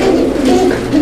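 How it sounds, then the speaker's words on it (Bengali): A male pigeon at a market stall gives a short, deep rolling coo, close and loud. "নরের ডাক দেখেন, ভরপুর ডাকবে"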